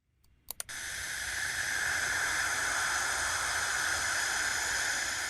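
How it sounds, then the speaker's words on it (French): A steady, loud broadband hiss from charged particles, recorded by Cassini diving between Saturn and its rings, fills the clip after two brief clicks at the start, continuous and unchanging like radio static. "Ce sifflement est produit par des particules chargées dans l'environnement."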